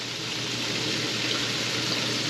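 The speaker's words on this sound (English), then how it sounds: "We're going to whisk that in as we pour it in there." Heavy whipping cream pours steadily into a pan while being whisked, a continuous close liquid rush with no talking.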